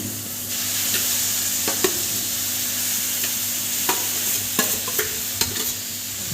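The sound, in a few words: beetroot frying and being stirred in hot ghee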